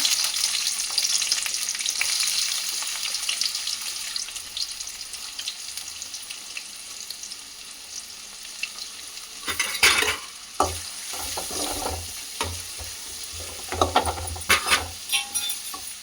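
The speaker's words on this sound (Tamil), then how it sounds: "இப்போது கடாய் வச்சு எண்ணெய் ஊற்றியாச்சு. இப்போது வெங்காயம் போடுறோம்." Onions frying in oil in a kadai: a steady close sizzle throughout, joined in the second half by scraping and clinking as a utensil stirs against the metal pan, with no talk.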